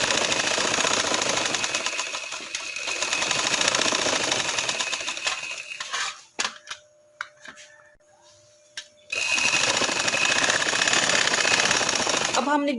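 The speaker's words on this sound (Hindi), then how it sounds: "जिस तरह ये मैं लगा रही हूँ सिलाई" A sewing machine stitches dori piping onto a dupatta in a steady, fast mechanical run for about six seconds, pauses briefly with faint handling sounds, then resumes stitching at the same close, even pace.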